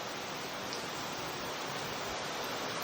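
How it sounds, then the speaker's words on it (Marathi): Steady, dense rain with large drops pours down, a continuous even hiss of water with no pauses or other sounds. "हे पा पाऊस बाबा बाबा लय मोठं थेंब आहे"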